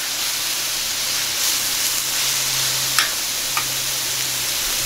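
Lean ground beef frying in a pan at a campsite, giving a steady, fairly loud hiss throughout with two small ticks near the end and no voices.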